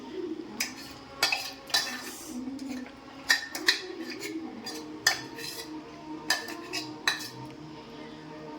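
Metal utensil scraping and clinking against a pan while stirring a mixture with crushed dates, irregular strokes with sharp taps, close by, over a low sizzle.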